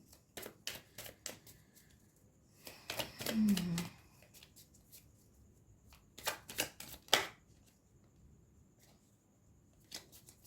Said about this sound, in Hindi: लास्ट एक कार्ड मैं निकाल लेती हूँ।